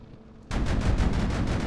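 Autocannon firing in the tank-building game Sprocket: a rapid burst of loud, closely spaced shots beginning abruptly after a short quiet moment and continuing steadily to the end, with no talking.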